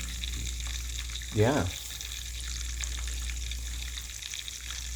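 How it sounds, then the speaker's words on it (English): Food frying in a pan on a stovetop burner set a little under halfway between medium and low, giving a steady soft sizzle throughout with a brief spoken word partway through. "This is getting this sizzle on setting number 2"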